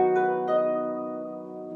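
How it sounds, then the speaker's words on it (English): A single harp string plucked low near the soundboard rings out with a round, guitar-like tone, a couple of quick notes followed by a sustained decay, heard alone and close. "we can pluck very low to the soundboard and it sounds like this."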